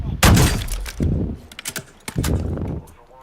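Gunfire in the DMZ video game: a loud close burst, then several more sharp shots and cracks spaced irregularly over a few seconds, with faint background noise.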